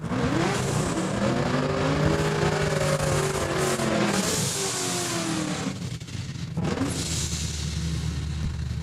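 Drag racing car at a Saskatchewan International Raceway points race, engine roaring loud and steady with rising and falling revs, a brief dip near the end before it surges again, no talk.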